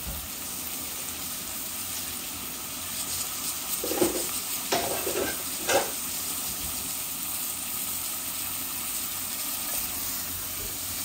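Potatoes fry in a pan with a constant hiss of oil, and a few short scraping stirs come in the middle amid a steady background.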